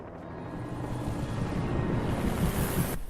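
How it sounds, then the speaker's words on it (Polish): A helicopter flying in the Alan Wake video game, a steady broad low rotor roar that holds loud and even throughout, with no talking. "O, jeszcze helikopter teraz?"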